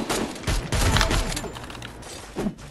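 Gunfire in the battle royale game Free Fire: loud, sharp bursts of shots and rapid volleys come in clusters, with thuds between them and no talking.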